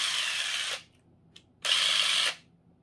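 An SMT MS-05 cordless impact wrench runs on its low setting in two short whirring bursts, each under a second, separated by a pause with a tiny click, close and fairly loud.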